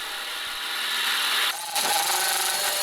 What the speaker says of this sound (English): in just a short amount of time of drilling, we're pretty much through these rivets